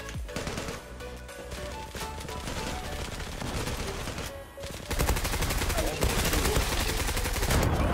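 FN FAL rifle fire in a video game, a continuous stream of loud gunfire that grows heavier in the second half, with a voice heard faintly under it.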